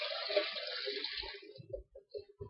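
Water runs and splashes close by as peeled potatoes are drained in a colander, a steady hiss of flow tapering off into scattered drips and gurgles.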